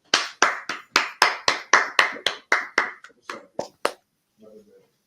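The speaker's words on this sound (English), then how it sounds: "Clap it up." Roughly fifteen sharp, evenly spaced hand claps from a few people in a class or meeting, loud and close. The claps slow and thin out toward the end, followed by brief faint talk.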